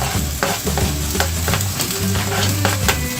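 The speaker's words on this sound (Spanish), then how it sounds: "Vamos a revolver todo" A spoon stirs pork goulash with paprika, garlic, tomato and onion in a pot, scraping and sloshing over a steady sizzle, close up with no talking.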